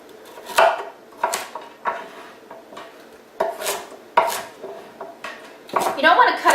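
Knife chopping unpeeled carrots into chunks on a cutting board, a series of separate sharp knocks spaced irregularly, close and fairly loud, with no talk.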